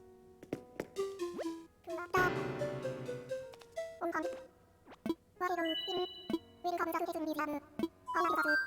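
A pet cat whines close by in a string of short and drawn-out pitched cries, over a background of soft game music.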